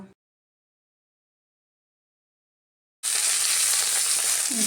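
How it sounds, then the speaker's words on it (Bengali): Cauliflower florets frying in hot oil for a mixed vegetable curry, a loud, close, steady sizzle that starts abruptly partway through after near silence. "এবার আমি ফুলকপিগুলোও ভাজা করে নেব।"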